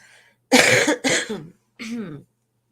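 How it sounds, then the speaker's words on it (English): Three harsh coughs close to the microphone, a double burst followed by a single one after a short pause, loud and alone with no talk over them. "I'm so sorry for coughing"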